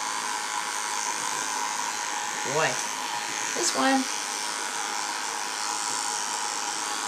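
An electric shaver drones steadily while trimming the paws of Forest, a 10-week-old puppy, a constant close buzz with brief shifts in pitch as the blade meets fur, and a person speaks softly over it twice.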